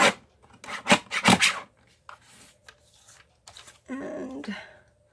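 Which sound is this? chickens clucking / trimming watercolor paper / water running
trimming watercolor paper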